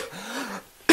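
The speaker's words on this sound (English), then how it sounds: "Oh, this cough's going to kill me." A single short, harsh cough bursts out loudly right at the end, close to the microphone, after a stretch of quieter voiced sound.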